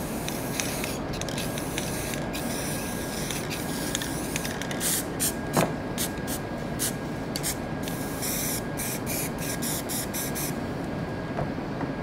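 Black spray paint hisses in a steady, close, loud stream as it is splattered over a stencil, broken by short gaps and quick spurts near the end.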